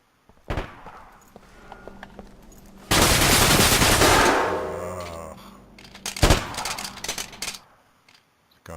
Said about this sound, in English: What the heck is all this shooting going on?